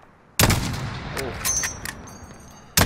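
Gunfire in the Call of Duty Warzone video game: a sharp loud burst opens, followed by scattered shots and distant crackle, with another loud blast at the end.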